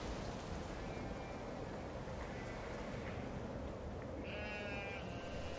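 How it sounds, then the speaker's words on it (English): Sheep bleat on a coastal ranch, wavering calls rising faintly over heavy wind and pounding rain, with a louder, nearer bleat toward the end. "And those sheep are out there in that."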